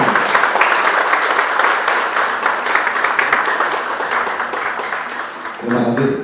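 An audience claps loudly and steadily for a company president director at a large corporate coordination meeting, a sustained applause that slowly fades near the end as a voice and music come in.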